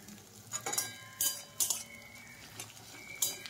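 Crushed ginger pieces sautéing in oil in a pan for a banana flower curry, with several light metallic clinks and scrapes of a utensil against the pan over a faint background.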